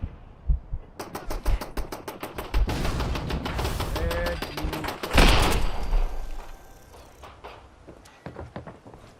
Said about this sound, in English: Watch out for this turret.